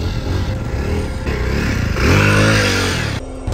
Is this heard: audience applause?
no